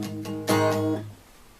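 Acoustic guitar strums in a four-count pattern, a couple of muted chugs followed by one louder open strum that rings briefly and fades, close and alone.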